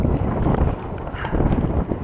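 Strong wind buffets the microphone in a constant low roar at a wild lake while feeder fishing, gusting unevenly throughout with no other sounds standing out.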